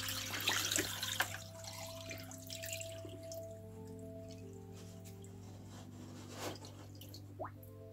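Carburetor parts are lowered into white vinegar, with faint drips, small splashes and liquid movement close by, a louder splash early on and a few soft plinks later, in an otherwise quiet room.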